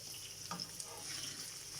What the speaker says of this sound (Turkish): Önce bir tavada güzelce kavuruyorum.